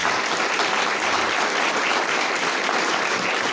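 An audience claps steadily at a commemorative ceremony unveiling a plaque, a dense, even wash of applause that holds at a moderate level throughout with no voices over it.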